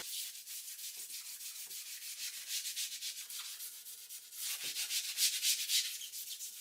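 Wooden nightstand being sanded with a handheld sander, a faint steady scratchy rubbing with a slightly pulsing rhythm, heard up close and alone.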